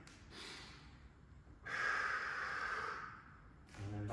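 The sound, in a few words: breathing during a footwork exercise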